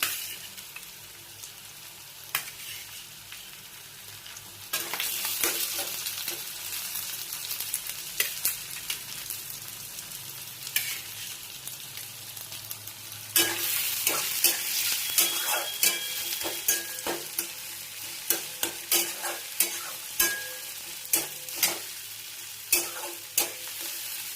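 Onion and tomato fry in a pan with a soft, steady sizzle, while a utensil scrapes and stirs in repeated clicks and rasps. The stirring grows busier and louder toward the end, with no talking.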